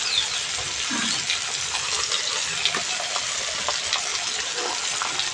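Ginger garlic paste stirred into lightly fried tomatoes in a pan for a Bengali potol chingri curry, giving a steady close sizzle with soft scraping stirs throughout.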